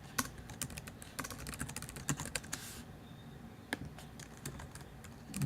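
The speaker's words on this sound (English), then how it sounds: "I can actually just type in the student's name." Someone types a name on a computer keyboard, with irregular clusters of light, close key clicks that pause briefly partway through, fairly quiet, with no talking.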